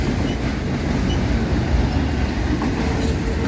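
CSX autorack freight train, with a Conrail car in the consist, slowing into a rail yard: a steady, loud low rumble of rolling cars and wheels, continuous and close, with no voices.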